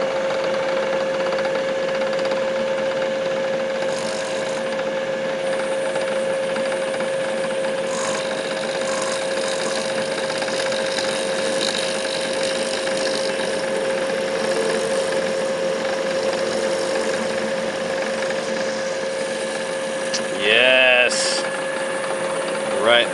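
A small drill fitted with a 1.5 mm bit bores into a rock for jewelry, giving a steady high motor whine that runs for a long stretch, with brief handling noises near the end.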